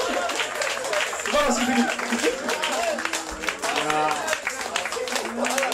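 Audience applause at an event honouring a man who took on the Antarctic, steady broadband clapping running throughout while voices talk and exclaim over it.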